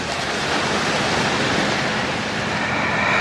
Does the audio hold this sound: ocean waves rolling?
yes